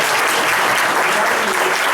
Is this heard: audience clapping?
yes